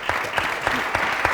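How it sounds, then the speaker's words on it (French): Brief, steady clapping from a studio audience on a TV entertainment show. The claps beat in an even rhythm at moderate loudness. "Faut applaudir."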